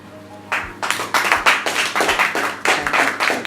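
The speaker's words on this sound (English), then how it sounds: "A round of applause." An audience at a Toastmasters meeting applauds with brisk, close, fairly loud hand clapping that starts abruptly and carries on steadily, with a few louder pulses, and no talk over it.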